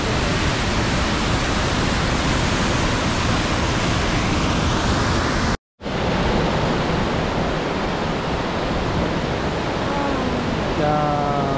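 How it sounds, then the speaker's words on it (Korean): Roaring waterfall at Vernal or Nevada Falls in Yosemite National Park, a loud steady broadband rush of falling water that fills the whole clip apart from a brief cut in the middle. "저 폭포에서 내려오는 물이구나"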